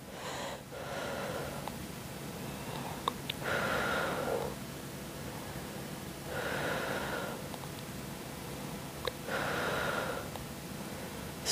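Slow, deep breaths in and out during a floor exercise, loud rushing breaths in a steady alternating rhythm, with no talking over them.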